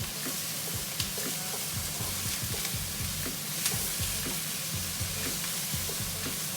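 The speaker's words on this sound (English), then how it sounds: "Give it a little stir." Food seasoned with pepper and salt frying in a home-kitchen pan for a burrito bowl, a close, even sizzle with rhythmic light scraping stirs throughout.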